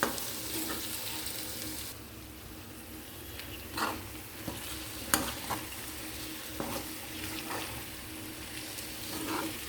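Chana dal and brinjal frying together in a pan, giving a steady close sizzle broken by several louder scraping bursts as the mix is stirred.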